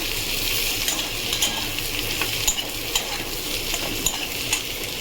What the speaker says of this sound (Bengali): ভাজা আলুগুলো দিয়ে দিই, ভালো করে একটু